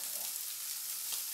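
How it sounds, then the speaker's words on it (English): Chopped garlic hits a very hot pan with shallots, mushrooms and bacon, giving a steady close hiss of sizzling with no talk, over a brief moment. "The pan is very, very hot. You have to very quickly add the chopped garlic."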